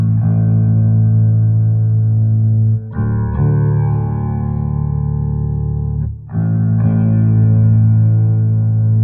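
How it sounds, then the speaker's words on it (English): A 12-string bass played through its neck pickup into a Sun amplifier rings out as dense, sustained low chords with heavy midrange harmonics, loud and continuous with two brief gaps between strums, no voices. "Now here's the sound of the other pickup running through the Sun."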